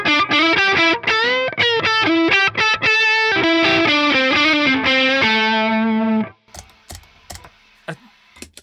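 An electric guitar played through a Germanium Eliminator pedal gives a fuzzy overdrive, with loud distorted chords and riffs ringing for about six seconds before stopping into quiet clicks and handling noise.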